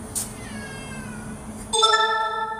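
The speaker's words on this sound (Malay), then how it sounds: "Meow means yes or no." A cat gives a short high meow and then a longer, louder, rising meow nearby, alone without talk, in a shop setting.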